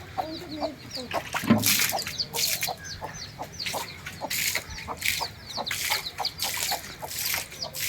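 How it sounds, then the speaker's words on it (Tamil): A hen with her chicks clucks again and again in short, close, irregular calls on a farm, with faint chick peeps and a louder squawk early on and no talk. "கருப்பி கருப்பி எத்தனை குஞ்சு நீ பொறிச்ச சொல்லு"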